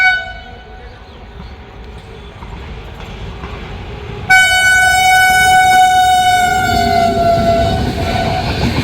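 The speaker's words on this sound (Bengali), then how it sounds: "Kanyakumari two Dibrugarh Indian রেলওয়েজের longest running train." An Indian Railways train hauled by a WAP7 electric locomotive, the Kanyakumari to Dibrugarh service, rumbles past loudly with a steady roar, and its horn sounds in a long sustained blast over the second half.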